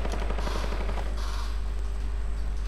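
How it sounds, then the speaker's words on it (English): Gunfire rattles in a Fortnite match, with rapid bursts of shots in the first half that thin out to a steadier game background, heard without talk. "Oh my god, shooting."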